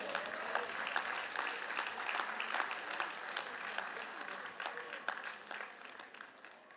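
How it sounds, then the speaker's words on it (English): Commencement audience applauding the glee club, a broad sustained crowd clapping heard at moderate distance, steady throughout and tapering slightly near the end, with faint voices underneath. "One more round of applause for our Glee Club."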